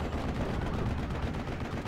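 Gun rounds fire in the World War II strategy game Steel Division, a dense, continuous rumble of gunfire and low blasts filling the whole stretch at a steady, fairly loud level.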